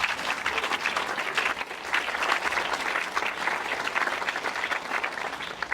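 A crowd at a talk applauds to welcome an economist to the stage, a thick, even wash of many hands clapping throughout, loud and sustained without speech.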